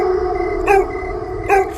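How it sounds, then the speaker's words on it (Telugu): Dogs howling at night, two drawn-out rising howls over a steady droning background, moderately close. "దూరంగా కుక్కలు, పెద్ద పెద్ద వీస్తున్నటువంటి గాలి శబ్దం."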